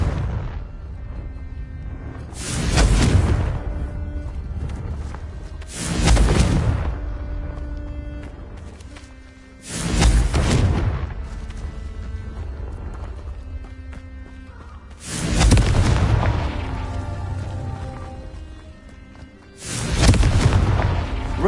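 Confringo blasting spells explode in a wizard video game, five heavy booming blasts spaced a few seconds apart, each a loud broadband burst trailing into a rumbling decay over a steady game background.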